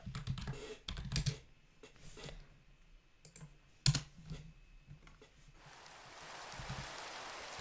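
Scattered clicks and taps at first, then a soft, steady rain hiss from the video game ZAWA Survival fades in and continues to the end.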